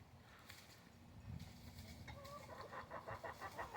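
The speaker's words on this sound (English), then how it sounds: "see that rooster?" Rooster clucking from a backyard chicken coop, a run of short clucks that grows louder and more rapid toward the end over steady outdoor background noise.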